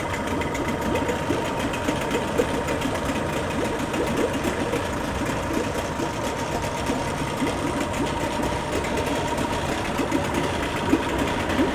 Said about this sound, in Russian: Мотор готов. Работает отлично, как четырехтактник.